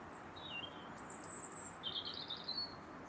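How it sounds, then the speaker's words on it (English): Several birds chirp and sing in the early morning, bright short calls and trills over a quiet outdoor background, moderately near and otherwise calm. "I love the birds."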